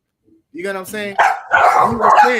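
Dogs bark in a few sharp, loud bursts close by, overlapping with someone talking indoors.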